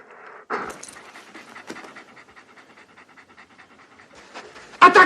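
A dog named Mastar pants rapidly and steadily, a close rhythmic run of short breaths, with a few louder bursts at the start and end.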